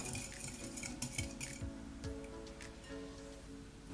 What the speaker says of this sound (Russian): Выливаем полстакана кефира комнатной температуры и все хорошо перемешиваем при помощи венчика